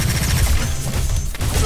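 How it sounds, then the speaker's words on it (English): Iron Man's Proton Cannon super attack in Marvel vs. Capcom: Infinite, a loud, sustained blast of booming, gunfire-like energy filling the whole moment with dense rumbling bursts. "Proton Cannon!"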